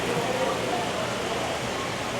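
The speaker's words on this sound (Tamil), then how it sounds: "நல்ல மழை பெய்யுது வெளியே" Heavy rain pours down outside, heard from indoors at a restaurant as a steady, dense hiss of broadband noise that holds at an even level throughout.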